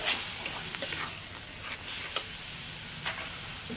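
Spinach and prawn paste fry in a pan as spices go in one after another, a soft steady sizzle broken by light scraping stirs and small ticks, quiet and close with no talk.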